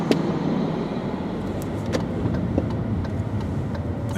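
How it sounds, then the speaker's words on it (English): Trucks and cars passing on a road, heard from inside a car as a steady engine and road rumble with faint whooshes of vehicles going by, no talking. "Trucks."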